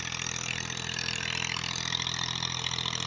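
A Massey Ferguson MF 240 tractor from 2000 pulls a nine-tine cultivator through a field in Punjab, Pakistan. The diesel engine gives a steady, continuous rumbling drone at moderate distance, with no voices.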